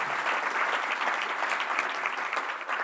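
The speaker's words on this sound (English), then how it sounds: "we can do an applause for that" Keynote audience applauding, a steady dense patter of many hands clapping at close range for about three seconds, no voices.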